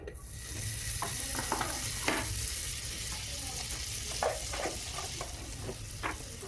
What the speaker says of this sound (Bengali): এবার কুকারটা গরম হয়ে গেছে, আমি এখানে কিছুটা বাটার নিয়ে নেব